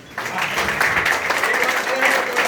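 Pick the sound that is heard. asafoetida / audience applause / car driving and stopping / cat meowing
audience applause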